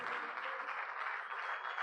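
Faint, distant applause rolls steadily through a church service congregation, an even wash of clapping with no voices over it.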